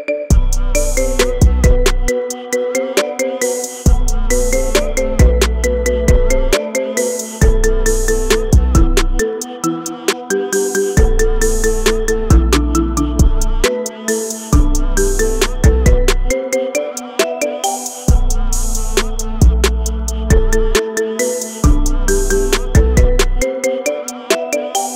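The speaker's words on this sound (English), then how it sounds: "Get this cool ringtone for your phone now." A loud, bright marimba ringtone plays a remix, with a bouncy, repeating melodic pattern and a punchy low beat that runs steadily throughout without any voice.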